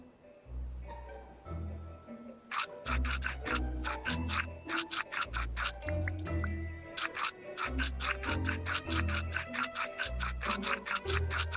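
Cartoonish toothbrush scrubbing in the video game Manual Samuel, with rapid rasping brush strokes in repeated bursts over a low rhythmic thumping backdrop, steady and fairly close, with no voices.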